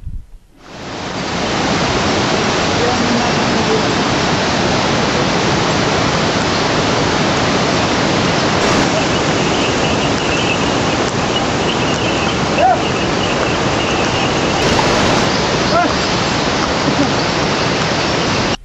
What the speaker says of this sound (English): We could also see river Mandakini, which was flowing by our side on a wild rocky bed.